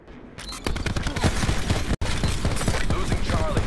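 An SDM rifle in Black Ops 4 is fired from the hip in a rapid, loud volley of closely spaced shots that lasts almost the whole stretch, with one abrupt split-second break in the middle.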